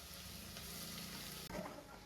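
Spices crackle and sizzle in hot oil for a tempering in a home kitchen, a steady, close frying hiss with a sharp clatter partway through as more goes into the pan.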